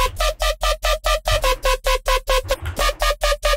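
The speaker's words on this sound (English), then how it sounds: "So tip number two is the Crooker's bass." Dubstep Crooker's bass patch built in Serum from two oscillators, one four octaves up, playing a steady run of about fifteen short, punchy, growling synth stabs in a fast even rhythm, loud and alone.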